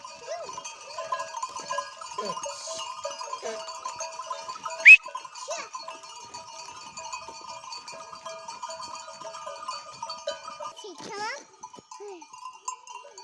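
Sheep bleat now and then in a barn over a steady metallic ringing of bells, with a sharper cry near the middle and another toward the end.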